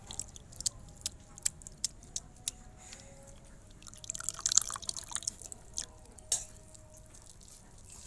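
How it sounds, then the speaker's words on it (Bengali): Washed raw mangoes squeezed by hand to press out the water, giving soft wet squishes and drips in an uneven series of close, quiet splashes. "আমের ভিতরে একটুও জল থাকবে না, এমনভাবে চেপে নিতে হবে যে আম একেবারে জল সব চলে যাবে।"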